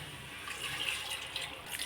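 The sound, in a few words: water being poured into pepper chicken gravy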